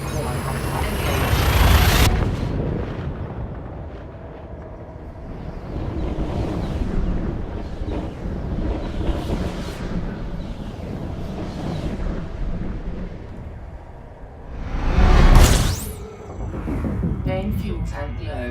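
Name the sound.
hyperspace jump in Elite Dangerous video game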